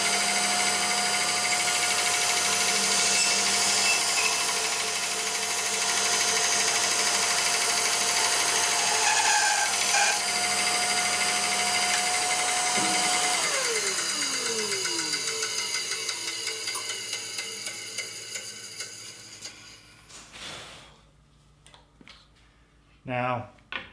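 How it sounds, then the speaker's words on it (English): A Laguna 1412 bandsaw fitted with a Resaw King blade runs through a board being resawn, a loud continuous whine and rush for most of the pass, then winds down into scattered clunks at the end. "And now we'll resaw this board and see what happens there."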